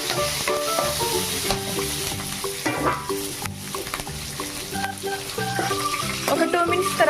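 Chopped green chillies and curry leaves sizzle and crackle in hot oil in a pan for tomato rice, with steady frying and stirring under background music.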